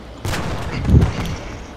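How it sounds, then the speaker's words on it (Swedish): A Firefly tank cannon fires a shell into a forest with one heavy blast, close and loud, followed by a rumbling tail and scattered crackle, game-style battle audio. "Jag skjuter granat rakt in i skogen."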